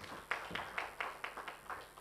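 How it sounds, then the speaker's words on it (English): Applause from an audience at a Kenyan diaspora gathering: a faint, distant patter of clapping with quick, fairly regular hand claps over about two seconds. "Once more, a round of applause for Mr"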